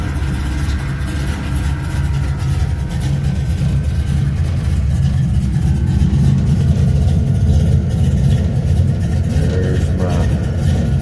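A 1972 4-bolt 355ci small-block V8 built for over 550 horsepower idles steadily while still cold, a loud, close, constant low rumble with a slight lope and no talk over it.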